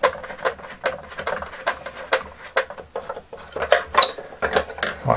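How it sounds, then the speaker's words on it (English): A screwdriver backs screws out of a vintage Masters of the Universe Bashasaurus plastic toy, making close, irregular clicks and scraping ticks in quick bursts with short pauses between them. "let's just get this unscrewed and we'll see what's going on"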